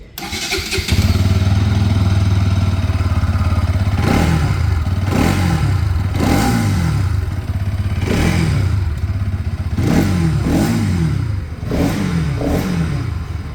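A Bajaj Pulsar NS 200 motorcycle engine starts and idles loudly close by, then revs repeatedly in sharp bursts, its exhaust note rising and falling.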